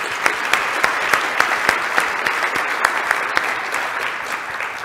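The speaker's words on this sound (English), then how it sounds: "can we give him another round of applause?" An audience at a Las Vegas business event claps for a presenter, a full, steady round of applause with crisp individual claps pulsing through the sustained clatter for several seconds.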